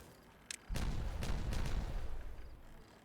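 Explosives detonating in the game Timberborn, a small pop followed by a heavy booming blast and a rumbling series of further detonations that fade slowly.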